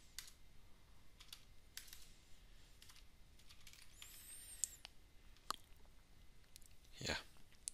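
Keys tapped on a computer keyboard in scattered bursts with brief pauses, faint and close, no talking.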